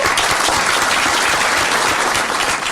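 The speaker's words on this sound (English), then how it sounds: "The clapping drives me crazy. It's so close to the microphone." Audience applause right beside the microphone, a dense, steady wash of close clapping that stays loud and unbroken for the whole stretch with no voices over it.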